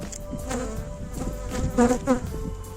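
Honey bees of the Yığılca strain buzzing steadily inside an open hive, a close, dense insect drone that rises and falls slightly in intensity, heard alone without speech.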